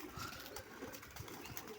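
Pigeons kept in a loft for sale, cooing in a low murmuring rumble with wingbeats and rustling mixed in, steady and close throughout a short stretch.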